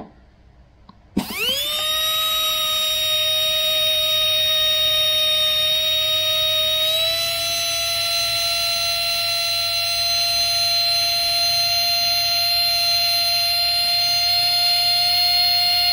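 Tamiya Mini 4WD dynamo motor running at 4 volts during break-in: after a quiet start it spins up sharply into a loud, steady high-pitched electric whine that holds constant, with a slight pitch shift midway, close and alone.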